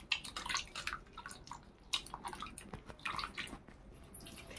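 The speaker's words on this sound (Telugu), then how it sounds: "చింతపండు గుజ్జంతా ఇలా తీసుకోవాలండి" Soaked tamarind pulp is squeezed by hand in a bowl of water, giving a series of soft, wet squelches and splashy drips in irregular bursts, fairly close and quiet, with no voices.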